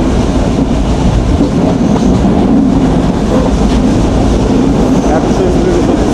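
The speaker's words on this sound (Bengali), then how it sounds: "দেখেন কি ঝড়ের গতিতে চলতেছে বনলতা এক্সপ্রেস" Banalata Express train running at high speed on its nonstop Dhaka to Rajshahi route, a loud continuous rumble with rapid rhythmic clatter of the wheels and the rush of wind, heard from inside the moving train.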